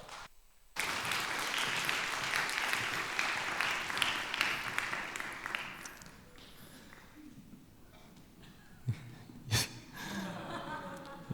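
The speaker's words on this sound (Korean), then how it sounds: "우리 목사님 나오실 때 따뜻한 박수로 환영해 주시기 바랍니다" Congregation at a Sunday young adults' church worship service breaks into warm applause to welcome the pastor, a steady roomful of clapping that fades after several seconds, leaving scattered taps and a few louder bumps.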